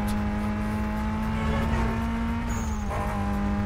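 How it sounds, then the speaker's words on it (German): A car drifting in Need for Speed Most Wanted, a steady loud engine drone with a sustained tire squeal over the top that drops off briefly near the end before resuming. "Das war doch ein schöner Drift."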